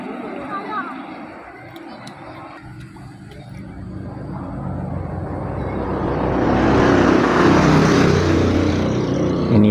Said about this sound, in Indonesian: ini adalah bus yang lewat dari arah Banda Aceh menuju ke kota Medan.